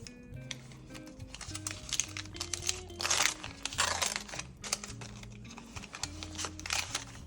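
Close, crisp crinkling and rustling of a paper surprise packet being handled and torn open, with soft background music underneath.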